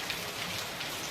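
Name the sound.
rain falling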